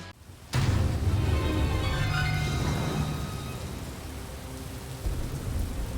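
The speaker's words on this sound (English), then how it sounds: "This story begins like many other games in this genre, on a dark and stormy night." Heavy rain pours steadily in a stormy night scene from the video game Sir Whoopass, with a sudden loud onset and a low thunder rumble rolling beneath the downpour, which fades slightly toward the end.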